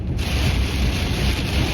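Strong wind at about 60 miles an hour roars and buffets continuously during a storm, loud and close, with a rushing, blustery texture and no voices.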